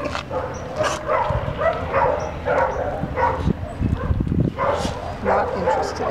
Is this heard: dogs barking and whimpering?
yes